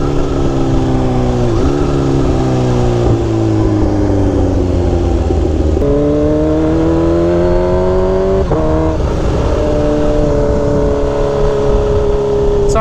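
A Kawasaki Ninja H2 motorcycle engine roars loud and close during a ride, its pitch climbing through gears with brief drops at each shift, plus heavy wind noise.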